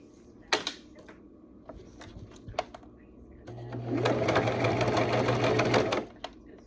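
A sewing machine runs in a steady, fairly close burst of stitching for about two seconds, preceded by a few sharp clicks and handling knocks, with quiet talk around it.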